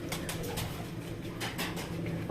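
Pigeons coo in a loft, soft repeated throaty calls at close range over a continuous low background murmur, with no one talking.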